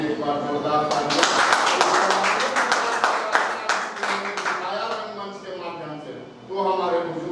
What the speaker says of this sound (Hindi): इसलिए उन पूर्वजों के सम्मान में एक बार जोरदार तालियां।